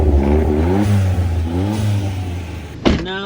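A Suzuki Alto Works engine revs hard twice, each rising whine climbing and falling back, followed by a sharp clattering knock near the end; loud and close with no speech.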